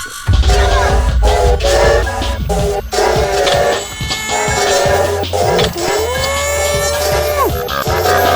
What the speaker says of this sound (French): Le niveau des sifflets de Shrek sur GameCube